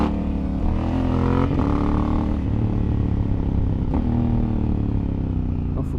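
A Honda Africa Twin motorcycle ridden along a road, its engine droning loud and close with steady harmonic tones that shift slightly in pitch as the throttle changes, with wind rush over it throughout.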